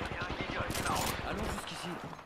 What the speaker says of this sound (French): J'ai flingué un ennemi.